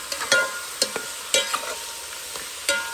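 Chicken sizzles in a frying pan while a utensil stirs it, scraping strokes at irregular intervals over a steady hiss, close and fairly loud with no talking.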